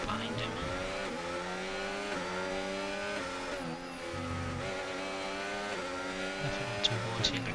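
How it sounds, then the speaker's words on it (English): An Aston Martin Formula 1 car's engine whines onboard at the Australian Grand Prix while a McLaren chases close behind, pitch rising and dropping with gear shifts, fairly loud with a voice faintly over it. "As we go on board with the Aston Martin, as the McLaren is racing up behind him."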